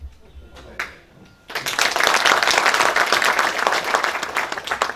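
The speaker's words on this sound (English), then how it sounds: "Let's give him his claps" Loud, dense applause breaks out after a few quiet seconds and continues steadily as a crowd claps together at the official opening of a Chuka University conference.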